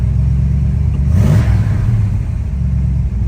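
A 1971 Ford Mustang 302 V8 coupe with automatic transmission fires up and gives a brief rev, a loud low rumble rising to a single swell before settling back to a steady idle.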